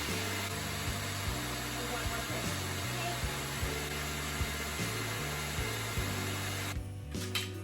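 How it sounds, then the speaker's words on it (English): An electric mixer beating eggs until foamy for a noodle kugel, a steady whirring motor hum with slight wavering in pitch, continuous and fairly close, ending abruptly near the close. "So I'm going to beat this until they're nice and foamy."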